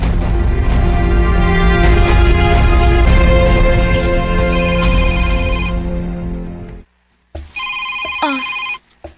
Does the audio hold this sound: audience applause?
no